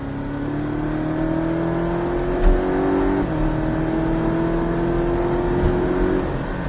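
A Porsche Cayman accelerates on the Beltoise circuit at Trappes, its engine note climbing steadily in pitch, dropping briefly at a gear change, then rising again, heard from inside the car without talking.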